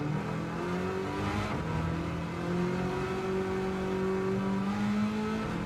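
American muscle car engine in a racing video game, revving steadily with rising and falling pitch through gear changes during a hot lap, loud and continuous with no talk.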